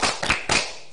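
Two quick bursts of hand clapping from a group of children and a teacher during a home-learning class cheer, sharp and close, each burst a short flurry of claps.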